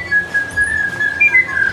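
Bright, warbling tui whistles ring out close and clear, sliding tones with slight chirpy breaks, over a faint background hush, on Tiritiri Matangi Island bird sanctuary, New Zealand.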